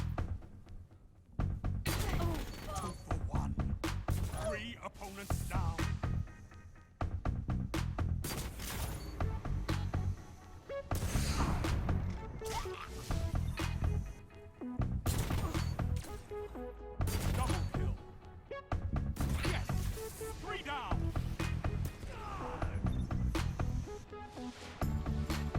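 The Zen Meteor in the Destiny video game fires in dense, repeated loud shots with booming explosions, a nearly continuous barrage of heavy impacts broken only by brief gaps.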